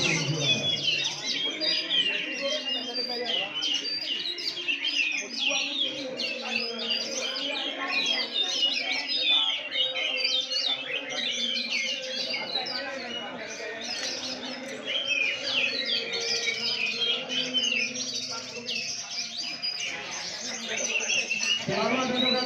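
Several oriental magpie-robins sing at a crowded bird contest, giving dense overlapping chirps and whistled phrases that run continuously. Voices and crowd murmur sit underneath the birdsong throughout.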